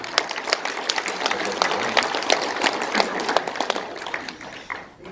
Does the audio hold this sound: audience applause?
yes